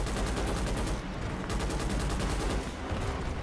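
Artillery fire in the video game Starship Troopers: Extermination, a dense, continuous barrage of booming blasts and rapid gunfire rumbling at mid distance without pause.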